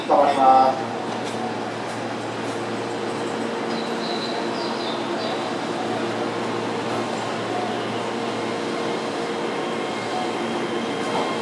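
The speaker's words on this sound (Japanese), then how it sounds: "2番線の電車は特急淀屋橋行きです。" Keihan 3000 series limited express train pulling into and stopping at Chushojima station on the Keihan Main Line, a brief loud burst at the start, then steady low rumble and hum of the stopped train with platform announcements over it.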